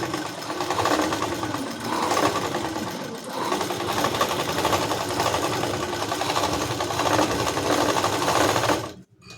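Sewing machine running steadily while stitching the front panel of a blouse, a continuous close mechanical whir with brief pauses, stopping abruptly near the end.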